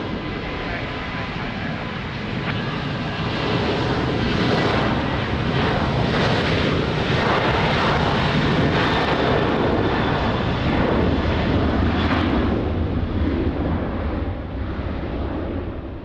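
Fixed-wing aircraft approaching runway 20 at Lisbon Airport in rain, a loud, sustained broadband engine roar building and holding for the whole stretch, with faint radio voice beneath.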